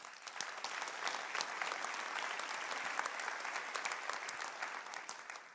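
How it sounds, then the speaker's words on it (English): Conference audience giving the US Plastics Pact award winners a quick round of applause at the Circularity 24 event, a steady wash of many hands clapping, faint and distant, without talk. "Let's give the US Plastics Pact award winners a quick round of applause."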